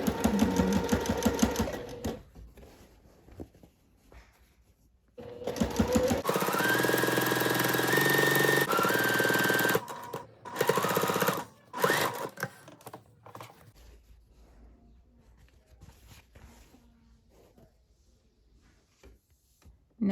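A sewing machine stitches a hem on a Fourth of July top in several bursts of fast needle chatter, loud when running and separated by quieter pauses with handling clicks and fabric rustle, and no talking.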